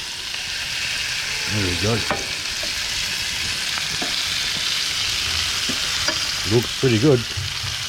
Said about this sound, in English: Probably touch more oil now. Another calamari back in.